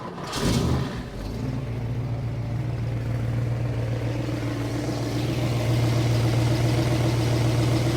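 A 1972 Ford Maverick's engine cranks briefly, catches and settles into a steady, loud idle with a constant low rumble close by; no one speaks.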